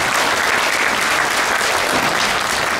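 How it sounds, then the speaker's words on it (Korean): A congregation claps steadily at a pastors' national-salvation prayer meeting in the Busan–Gyeongnam region, a dense, even wash of applause filling the space without a break. "박수하겠습니다."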